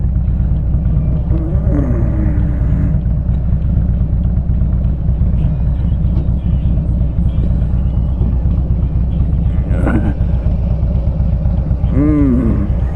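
A car fitted with a Rinehart 2-in-1 single side exhaust idles with a loud, steady low rumble outdoors, with a few brief revs rising over it.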